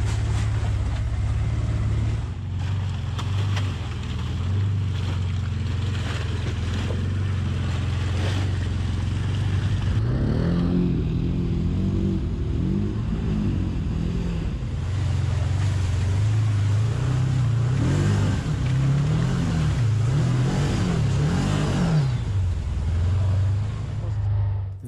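ATV riding on Maxxis Bighorn 3.0 tires across pavement on a road in Stephenville, Newfoundland, a loud continuous engine drone with steady tire roar, the pitch rising and wavering in the second half.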